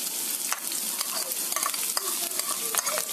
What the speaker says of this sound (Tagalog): habang ginigisa po natin, hayaan po natin yung sibuyas na medyo magkulay pink